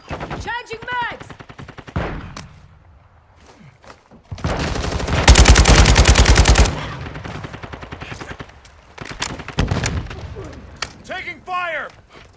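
Rapid automatic gunfire in Call of Duty: Modern Warfare II team deathmatch, loud and close, with a sustained heavy burst in the middle and scattered shots around it, mixed with shouted voices.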